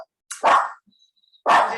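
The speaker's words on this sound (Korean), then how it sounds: "저희 개가 이렇게 잘 짖어요." Dog barks twice, loud and close, with a short gap between the sharp bursts and near silence around them.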